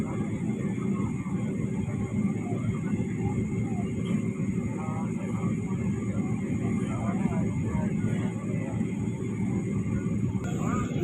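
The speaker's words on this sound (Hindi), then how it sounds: "अब हम आपको जहाज़ के ओरिजिनल थ्रस्ट की आवाज़ सुनाएँगे" Airliner engines give a steady, broad roar of thrust in flight, heard from inside the cabin on a trip from Islamabad to Seoul, continuous and even throughout, with a faint voice under the noise.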